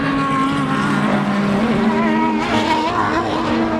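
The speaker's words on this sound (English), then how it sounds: "Been hearing the sound of a V12 Valkyrie" The V12 engine of an Aston Martin Valkyrie race car roars steadily and loudly at high revs, its pitch shifting as it passes close by, with no talking.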